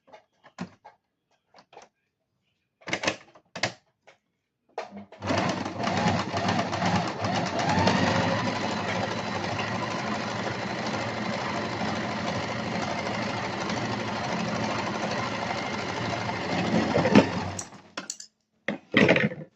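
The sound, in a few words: sewing machine stitching a hem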